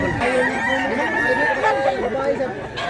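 Many chickens and roosters call together in a dense, continuous chorus of overlapping crows and clucks, close and loud throughout, with a voice speaking over them.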